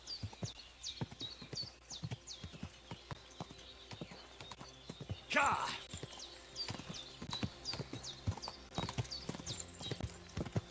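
Horse hooves clip-clop in steady, evenly spaced beats in the video game Kingdom Come: Deliverance 2, close and clear with birdsong above them, and someone speaks briefly partway through.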